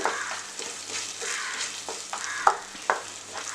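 Spices and black pepper sautéing in oil in a pan for paneer white kurma, a soft continuous sizzle with occasional stirring scrapes and a couple of sharper clinks, moderately close and without talk.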